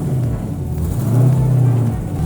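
A car with a limited-slip differential driving a tight little circle, a steady close engine rumble with a slight rise in revs midway, continuous and unbroken.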